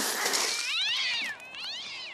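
A cat meows loudly and close in a cartoon, two drawn-out rising and falling calls with a whiny, caterwauling edge.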